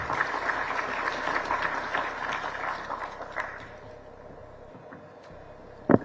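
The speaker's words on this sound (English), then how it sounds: "May we give another stronger round of applause to the Permanent Secretary." Audience applause at a national development plan conference hall, a dense wash of clapping that is loud at first, then thins and fades over the last seconds, with one sharp clap near the end.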